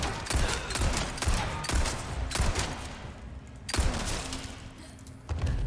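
Shotgun blasts in Resident Evil 4 (2023), several heavy booming shots spaced a second or so apart, loud and close, each followed by brief rumbling decay.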